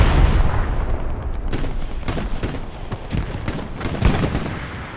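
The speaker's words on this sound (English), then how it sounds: "But look at this, suppressed by the MG." Machine gun fire in a video game match, repeated sharp bursts of rapid shots crackling throughout, some near and loud, others more distant, over a rumbling background.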